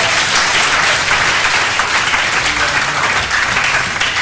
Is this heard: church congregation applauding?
yes